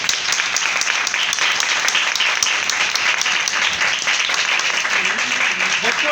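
A church congregation applauds loudly at a Palm Sunday service, steady dense clapping that carries on throughout.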